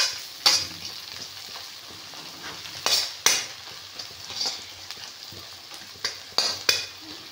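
Spring onions frying in a pan for egg fried rice, a soft sizzle punctuated by repeated sharp scrapes and clinks of a spatula against the metal pan.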